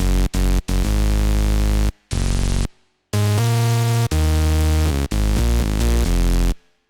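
A heavily distorted FL Studio stock synth bass plays a choppy sequence of sustained notes separated by abrupt silences, harsh and loud.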